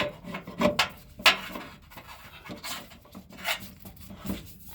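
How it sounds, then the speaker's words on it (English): A fuel filter being spun on by hand onto an engine during an oil and fuel filter change, heard as close, quiet rubbing and scraping with a few sharper clicks and rasps, no talking. "So hand tighten it, get it on there first."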